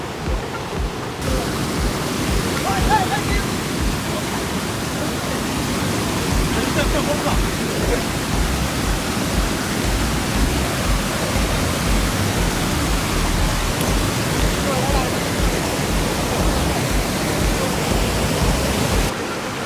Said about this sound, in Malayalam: കണ്ണത്ത് മലവാരത്തിൽ നിന്ന് ഒഴുകി വരുന്ന പുഴയാണിത്.